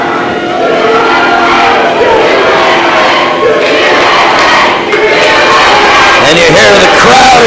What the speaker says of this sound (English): And you hear the crowd here in Greenwood, Arkansas, breaking out with the USA chants